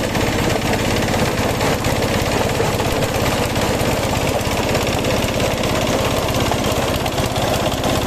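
A cocopeat processing machine that shreds coconut husks runs loudly and steadily with a rapid mechanical chugging and knocking beat, close by, with no talk.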